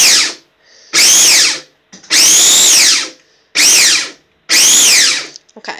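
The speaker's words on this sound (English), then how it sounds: "We'll turn it on and I'll show you how fast you can actually pulse these peppers." Cuisinart mini food processor pulsing peppers: five loud, close motor bursts of about half a second to a second each, with rising and falling whine, separated by short pauses of near silence.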